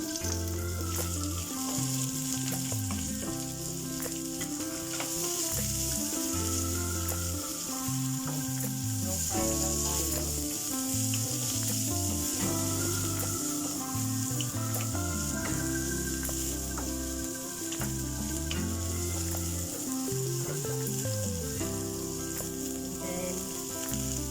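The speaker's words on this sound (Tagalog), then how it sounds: "and then just continue to saute" Garlic and chicken sauté in a hot pan for chicken afritada, giving a steady, close sizzle that stays loud and even throughout with faint stirring underneath.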